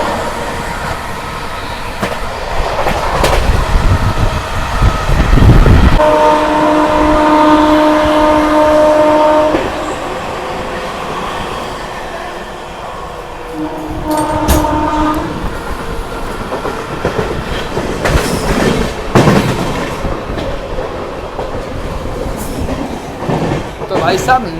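Amrit Bharat Express rushing along at speed while overtaking another train on the adjacent line, loud continuous rail roar with clattering wheels, sustained horn blasts partway through, and bursts of passing-train noise.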